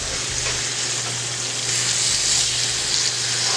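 Salmon fillets sizzle steadily in a hot pan, a dense, loud, continuous hiss of frying oil with a low hum beneath and no voices.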